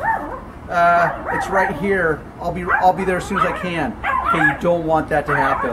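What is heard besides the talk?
dogs barking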